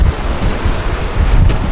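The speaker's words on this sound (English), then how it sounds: "Well, it's windy today. 35 to 45, gusting 65 to 80." Strong highway wind gusting around 65 to 80 mph roars loud and close, heavy buffeting rumble battering the microphone with no voices.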